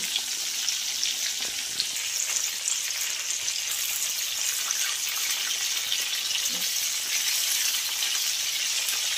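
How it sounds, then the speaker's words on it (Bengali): Chicken wings fry in hot oil, a continuous close bubbling sizzle that holds steady throughout, with a couple of faint knocks and no speech. "এইভাবে আমি সবগুলো মাংস ভেজে নেব।"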